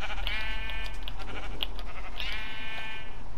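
Sheep in a Minecraft world bleat in a few clear, wavering calls, with a couple of shorter clicks between them, heard steadily over a faint background hum.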